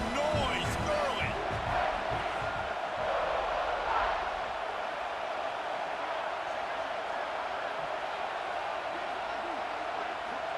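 A large stadium crowd at a football game roars with a dense, sustained wall of cheering and noise that stays loud throughout, with voices talking over it near the start.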